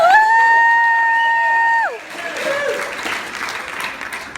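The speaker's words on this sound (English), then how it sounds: "everyone, let's clap it up for the beautiful bride right here" Wedding guests applaud the bride, a burst of close clapping that rises after a brief sustained tonal sound and continues as a steady, moderately loud patter.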